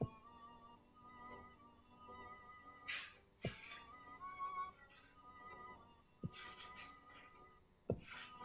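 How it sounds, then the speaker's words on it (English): A kitten moves and plays about a room, giving soft scuffling and rubbing noises, a few sharp taps and brief high bursts. Quiet sounds scattered across the whole stretch. "Any sound effects that you hear that don't sound like they're part of the podcast are part of the kitten."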